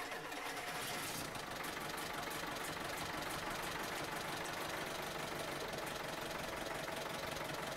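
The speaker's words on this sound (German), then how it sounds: "Motor starten." An IFA W50L truck engine in Farming Simulator 2017 cranks and catches, then settles into a steady, loud, rough diesel running sound that fills the whole stretch without a break.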